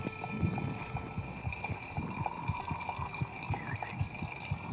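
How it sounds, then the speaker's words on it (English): Ice is stirred with a bar spoon in a cocktail mixing glass, making a steady run of soft, rhythmic clinks and taps close by with no voices. "So let's go ahead and start stirring this."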